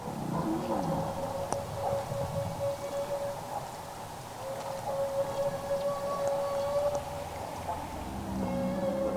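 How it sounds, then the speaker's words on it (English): A single humpback-style marine animal gives a long, drawn-out tonal feeding call recorded underwater in Southeast Alaska, a steady wavering moan over a hissing, rumbling ocean background with fainter calls behind it. "What you hear in this recording is a very long feeding call that is produced by a single animal."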